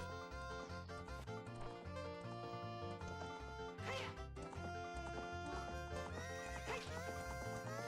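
The horse Epona whinnies in the Zelda: Ocarina of Time video game, her neighs rising over loud, continuous background game music and sound effects.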